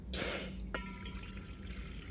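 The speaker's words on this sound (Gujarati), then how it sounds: "બે ગ્લાસ પાણી ઉમેરવાનું છે" A glass of water is poured into a deep steel pot while preparing a cold-and-cough herbal decoction, giving one short, splashy pour followed by a faint metallic ring.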